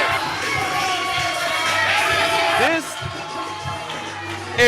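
Crowd noise at a live professional wrestling event in an arena, a loud, dense roar of cheering and shouting that runs continuously, with a commentator's voice heard partway through and a sharp burst right at the end.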